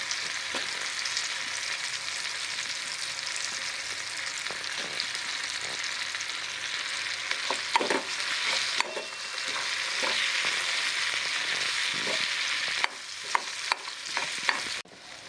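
Boiled potatoes sizzle steadily as they fry and are stirred in a pan with coriander-cumin powder, chilli and turmeric, with scraping spatula strokes growing more frequent near the end.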